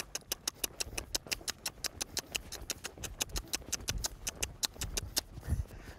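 A green, lightly ridden horse lopes in an arena, its hoofbeats landing as an even run of sharp, clear clip-clops close to the microphone, with no voices over them.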